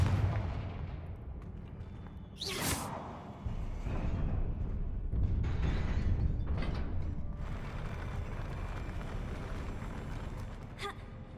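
A Confringo fire spell in Hogwarts Legacy lands with a loud, close blast that trails into rumbling, creaking mechanical noise and a few softer thuds, alone without talk.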